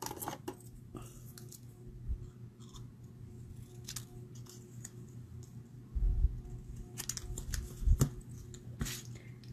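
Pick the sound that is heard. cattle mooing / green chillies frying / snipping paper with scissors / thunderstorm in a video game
snipping paper with scissors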